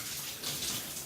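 Cold shower water pouring steadily in a broad, even hiss, close and moderately quiet, with no talk over it.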